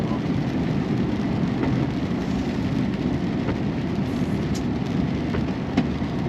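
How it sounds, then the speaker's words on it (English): Heavy rain pours down in a steady, dense hiss that holds evenly throughout, with a few faint knocks and drips rising above the downpour. "the rain's getting heavier"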